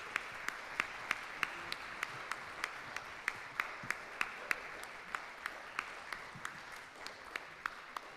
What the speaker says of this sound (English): And a round of applause for the board.